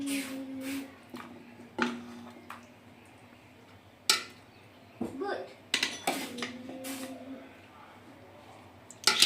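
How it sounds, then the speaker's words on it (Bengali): Potatoes and meat gravy for Kolkata-style chicken biryani going into a big pot, with scattered clanks of a utensil on the metal pot and soft wet plops, interspersed with talk. "ওই হাঁড়িতে আমরা এখন প্রথমে দিয়ে নিচ্ছি আলু আর মাংসের গ্রেভি"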